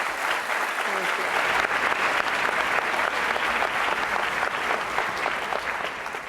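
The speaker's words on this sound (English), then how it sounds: "Please join me in giving Dr. Cantor another round of applause, please." A room of public school leaders in Washington, D.C. applauds keynote speaker Pamela Cantor, M.D., with a dense, even wash of clapping that holds steady throughout and eases slightly at the close.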